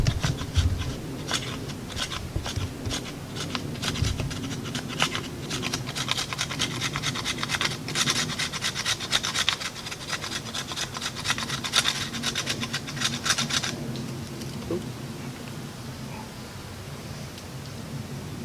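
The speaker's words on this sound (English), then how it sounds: "it'll scrape real good fluff off of wood" A knife's 90-degree spine scrapes fluff off wood in a steady run of close, raspy strokes that continue for several seconds before tapering off.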